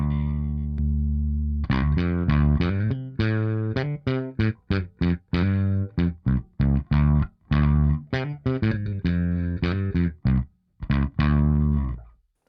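Electric guitar run through a Michelangelo Dophix overdrive pedal set at 12 o'clock, with gain knob at midday: a sustained chord, then a rhythmic run of short chopped chords and single notes with mild crunch, close and alone.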